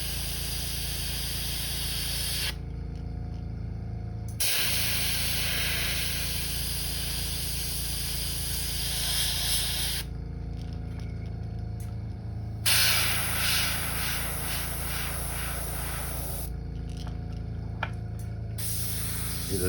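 An airbrush sprays orange red paint onto a crawfish model with a steady close hiss, broken by a few short pauses between bursts.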